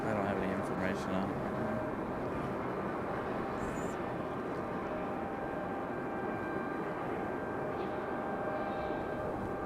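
A United airliner passing at Raleigh-Durham airport, a distant, broad jet roar spread evenly across the whole stretch with steady rumble and no break.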